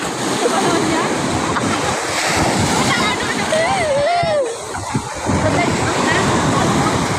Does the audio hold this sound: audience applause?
no